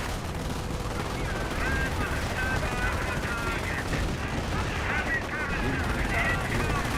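Gunfire from a Company of Heroes World War II battle: dense, continuous crackling small-arms and machine-gun fire with distant explosions, steady and loud throughout, with faint voices mixed into the din.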